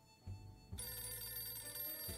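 A telephone rings in a video game, a steady electronic bell trill that keeps going, faint and even, with no voices over it.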